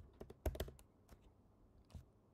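Soft, quick keystrokes tap on a computer keyboard in a short irregular burst, followed by a couple of isolated taps. The typing is quiet and close, with no speech.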